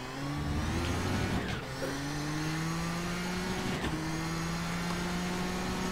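Nissan GTP race car engine lapping Spa in iRacing, a steady loud drone that shifts pitch as the car brakes in low gear and then accelerates, with brief dips around gear changes.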